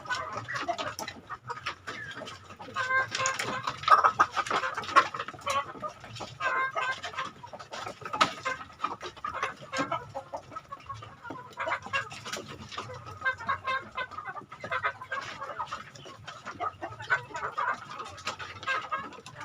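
Young roosters and hens cluck and call continuously in a poultry pen, with many overlapping birds at close to middle distance.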